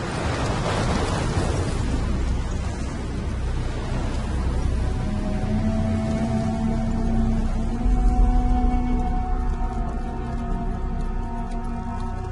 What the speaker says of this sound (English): Storm's passing.